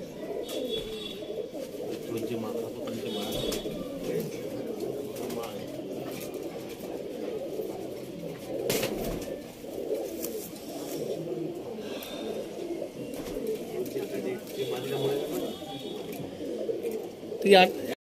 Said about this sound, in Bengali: দেখুন আরেকটা চটিয়াল মাদি পায়রা দেখাচ্ছি।